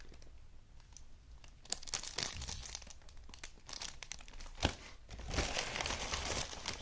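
Rice cracker packaging, seaweed and original flavours, peeled open by hand: continuous crinkling and crumpling of plastic wrapper with sharp tearing bursts, growing louder and denser toward the end, close by and without talk.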